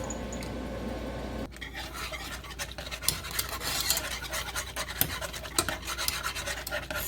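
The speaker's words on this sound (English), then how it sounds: "make sure you keep whisking it up a little bit" A whisk scrapes and stirs sugar-free egg nog in a pot, quiet irregular scratching and clinking against the metal with a few sharper taps, close by and heard alone.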